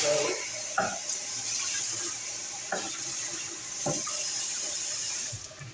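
Salad is rinsed under a running kitchen tap, making a steady rushing stream of water with a few soft thumps of leaves being handled, close and continuous.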